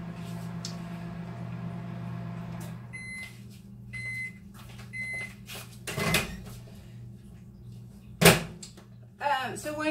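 A microwave oven heating syrup hums steadily for a few seconds, then beeps several times in a short series, followed by clunks from its door and quiet voices talking nearby.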